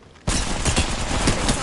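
Rapid gunfire erupts in an Apex Legends arena match, a dense, loud burst of overlapping shots that starts abruptly and keeps rattling steadily to the end.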